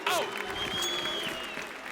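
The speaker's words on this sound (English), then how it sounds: "That's certainly a crowd pleaser, isn't it? One way to get him cheering." Esports crowd at BLAST Pro Series Istanbul cheering in a sustained roar, with a short exclaimed voice at the start and commentary over it.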